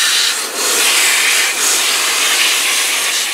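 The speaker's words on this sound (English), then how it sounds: "So just spray them off one leaf at a time" Water sprayed steadily onto plant leaves to wash off aphids, a loud close continuous hiss that dips briefly as the spray moves from leaf to leaf.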